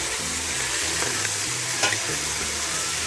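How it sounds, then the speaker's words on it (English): Chicken in beer stirred and frying in a pan, a dense steady sizzle with scraping stir strokes and occasional clinks, close and alone. "As you see it frying nicely, but you don't want to burn it either."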